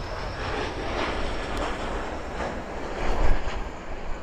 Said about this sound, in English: Got a little JetBlue landing.